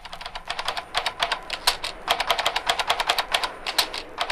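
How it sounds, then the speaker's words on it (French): An experienced typist types on a typewriter in a physiological research lab with artificially raised background noise: rapid, steady key strikes with bright clacks in a dense, even rhythm, close and without voices. "Écoutez cette dactylo expérimentée, travaillant au laboratoire de recherche physiologique dans une ambiance artificiellement bruyante"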